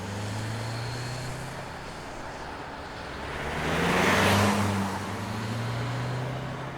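Interior road noise of a 2025 Toyota Camry SE AWD hybrid on the move: a steady low hum and tire rumble that swells briefly midway as it gathers pace, with no voices.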